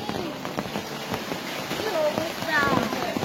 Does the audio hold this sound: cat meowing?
no